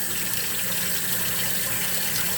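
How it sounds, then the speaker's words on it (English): Warm water pours steadily into a mixing bowl while making homemade pizza dough, a continuous even splashing rush that stays close and unbroken with no voices. "Just gonna add some warm water."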